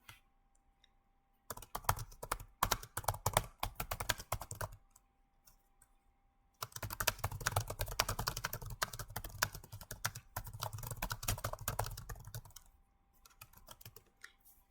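Bursts of fast, close typing on a computer keyboard, two long runs of dense clicking separated by short pauses, with no voices.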